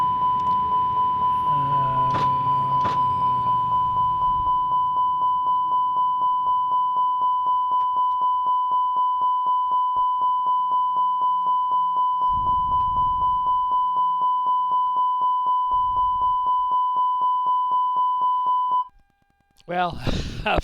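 A steady, loud electronic cockpit alarm beeps in rapid repetition inside an airliner in Microsoft Flight Simulator, continuing unbroken for a long stretch before cutting off near the end, with brief talk early on.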